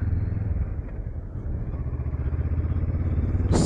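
A Honda CL500 motorcycle on a test ride, its engine giving a steady low rumbling drone with wind buffeting throughout, close and fairly loud, ending in a brief burst of noise.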